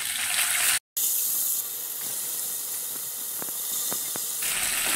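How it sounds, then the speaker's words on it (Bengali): Crabs frying in hot oil in a pan, a steady loud hiss of sizzling throughout with a brief cut near the start and a few sharp crackles and pops toward the end. "কাঁকড়াগুলো একটু ভেজে নেব।"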